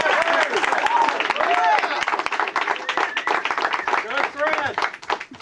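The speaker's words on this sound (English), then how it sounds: "Suresh, I'm going to get the audience to give you a big cheer right now" A studio audience at an apple-bobbing world record attempt claps and cheers steadily, the applause continuing under a presenter's voice.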